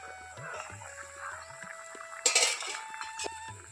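A metal lid clanks off a pot of boiling potatoes, a brief bright clatter rising out of a quiet kitchen with a low simmering hum underneath.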